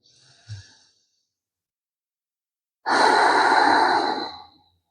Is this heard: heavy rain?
no